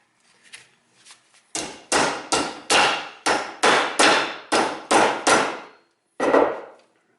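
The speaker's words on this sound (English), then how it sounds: "I hammer that so that this goes in just in that area" Steady hammering on a BMW touring rear trunk door hinge being repaired, a run of about nine sharp close blows in a quick even rhythm, with softer taps before and one more strike after a pause.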